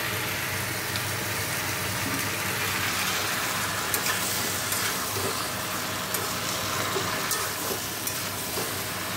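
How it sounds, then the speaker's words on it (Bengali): Chickpeas fry in a pan in a home kitchen, giving a steady, close, continuous sizzle with a faint stirring texture throughout and no talking. "আর এখানে কটা ছোলা আছে, ভাবছি ভেজে রাখবো"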